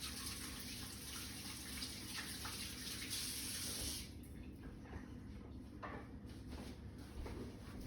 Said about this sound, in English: I'm gonna rinse my hands off real quick because I don't want to burn my eyes